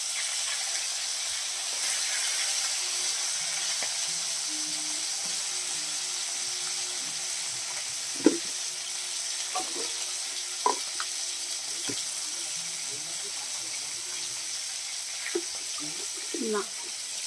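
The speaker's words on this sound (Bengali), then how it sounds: "মাছগুলোকে একটু লাল করেই ভাজবে।" Tilapia fish frying in hot oil until reddish, a steady soft sizzle with occasional clinks and stirring taps at moderate distance, no talk over it.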